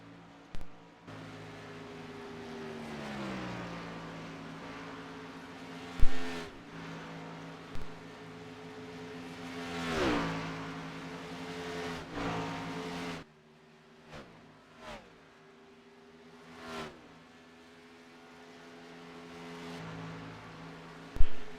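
Vintage stock cars race around the Atlanta track, engines roaring past one after another with rising and falling pitch as they sweep by, loud and sustained with sharp gear-change surges.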